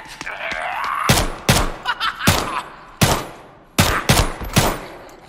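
Sharp, loud gunshots come from a gold pistol in The Day Before, fired in separate single cracks and quick pairs with short gaps between, close up, with a brief muffled voice near the start.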